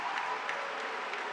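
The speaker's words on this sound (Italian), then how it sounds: "Si prende gli applausi del Palamaggiore" A crowd applauding at the Palamaggiore futsal arena during a Serie A playoff match, a steady wash of clapping that sounds distant and fairly soft, with no break through the whole stretch.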